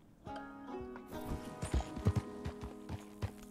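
Horse hooves clip-clop in Red Dead Redemption 2, a steady walking gait of crisp, close thuds over a soft ambient game background with no talking.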